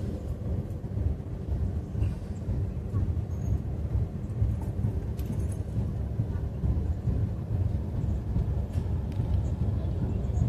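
A train pulls through a station on a line toward Kashmir without stopping, a heavy low rumble and steady rolling roar held throughout at close range, with faint higher clatter above it.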